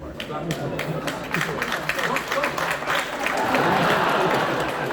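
An audience at a university talk applauds, a broad wash of clapping that swells and grows louder toward the end, with crowd noise mixed in.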